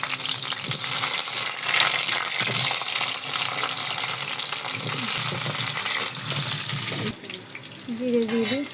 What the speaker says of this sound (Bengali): এখন এই আলু ভাজা করবো।